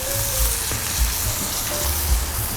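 Bison tacorritas sizzle steadily on a flat top grill, a loud, dense crackling hiss with occasional soft scrapes and knocks as they are shifted around.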